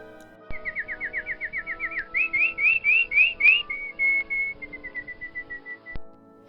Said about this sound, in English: One morning, rather early, I heard a bird raising his voice.